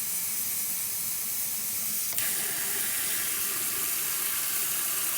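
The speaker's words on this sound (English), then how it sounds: "Cold water." Cold water running from a kitchen tap into a sink for washing collard greens, a steady broadband hiss that shifts slightly partway through as the flow changes, close and alone without talk.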